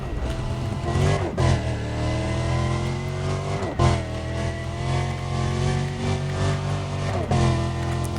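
A car races in Need for Speed: Undercover, its engine revving hard and climbing through gear shifts with brief dips between, loud and steady, heard alone without talk.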